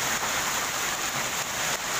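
Hailstones pelt down across a park in Delhi during a heavy hailstorm, a dense, steady hiss of countless small impacts filling the whole stretch without pause.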